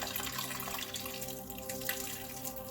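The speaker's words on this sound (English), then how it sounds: "you hear that, the change in the water if I move this" Water trickles and drips continuously in a homemade tabletop meditation fountain, a soft, close splashing babble over a faint steady hum.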